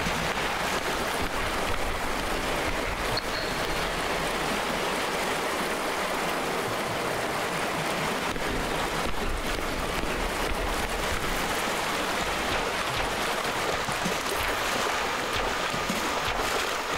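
Steady watery splashing and rushing texture from footsteps moving through water in a video game, continuous and close for the whole stretch without any talk.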